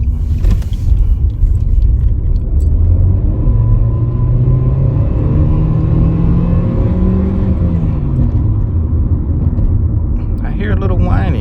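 A 2014 Nissan Sentra S drives at steady speed with a rumbling road drone, while a faint rising and falling CVT transmission whine sits above the engine noise.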